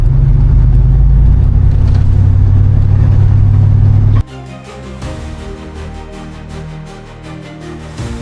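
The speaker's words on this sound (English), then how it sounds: "We're driving down the road and the trailer is towing good." A car towing a camper trailer with a newly repaired leaf-spring suspension and replaced axle rolls down the road, with a loud, steady engine and road rumble that abruptly shifts to a lighter, busier cabin drone halfway through.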